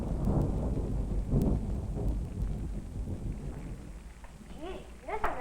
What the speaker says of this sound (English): Gee, this is a nice thunder. The storm isn't very far away.